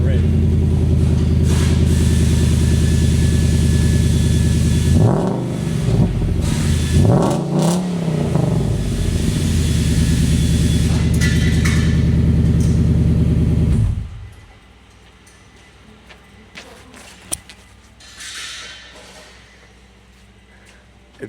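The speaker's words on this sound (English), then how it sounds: "I'm gonna leave the microphone right down here and I'm gonna go give it a rev" A Nissan Y62 Patrol engine revs hard at close range, its loud throaty rumble rising through several swells before cutting off sharply, leaving a quiet idle with light clatter.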